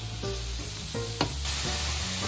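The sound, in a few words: stirring grated carrots and celery together in a pan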